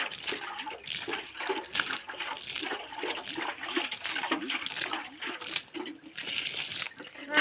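Water splashes and pours steadily over cassava, a continuous wet rushing with small bumps and clatter, close by and fairly loud throughout.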